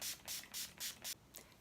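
Five quick, airy bursts of makeup setting spray hiss in a steady rhythm close up, followed by a couple of fainter puffs.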